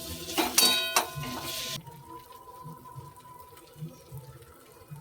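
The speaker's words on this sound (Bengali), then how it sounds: "মশলাটা ভাজা হয়ে গেলে এর মধ্যে পরিমাণ মতন জল দিয়ে" A short rush of water poured into a hot pan of fried spice paste for okra masala, splashing for a couple of seconds before stopping abruptly, leaving a quiet simmering hiss.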